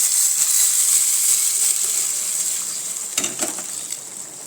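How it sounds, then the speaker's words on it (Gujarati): Boiled greens hit hot spiced oil in a pan with a loud, close sizzling hiss that gradually softens, followed by a few stirring scrapes near the end. "હવે આપણે તેમાં આ બાફેલી ભાજી નાખી દઈશું"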